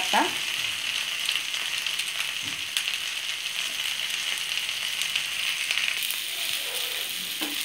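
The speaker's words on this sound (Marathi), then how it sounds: "आता हे ओपनच ठेवून आपण करून घ्यायचं आहे भाजून चांगलं फ्राय करून।" Mackerel frying Karwar style in an open pan gives a continuous loud sizzle with scattered crackles, close and steady for several seconds, no talking.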